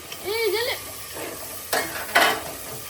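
Tomato being stirred into chicken curry frying in a pan, with a soft scraping stir early on and brief bursts of sizzle later, close and moderately loud with no talk.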